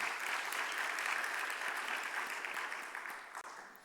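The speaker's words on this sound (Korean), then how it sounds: "감사와 격려의 박수를 또 한번 돌려드릴까요?" A room full of people at a church youth worship service claps together, a warm continuous burst of applause that gradually thins and fades toward the end.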